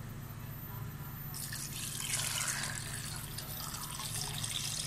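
Water is poured into a pot over Iranian plums, making a steady, bright splashing and trickling stream that starts a little over a second in and runs on evenly under a low background hum.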